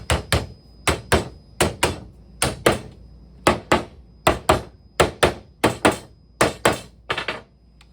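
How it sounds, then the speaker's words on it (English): Repeated sharp hammer blows strike close by, often in quick pairs, as a lock-up frame part is hammered on, in a steady working rhythm with no talking. "Line up the holes and hammer it on."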